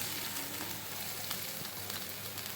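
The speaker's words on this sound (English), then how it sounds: "Okay, now we will add in onions" Onions fry in a pan with spices and dried red chili, giving a faint, continuous crackling sizzle with scattered tiny pops throughout.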